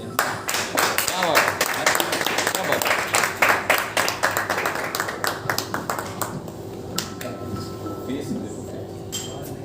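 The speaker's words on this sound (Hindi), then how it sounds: "बेस वाले भी ताली बजा सकते हैं" An audience at a Hindi movie trailer launch breaks into loud, sustained applause that swells and then thins into scattered claps, heard up close and indoors, with a steady hum beneath.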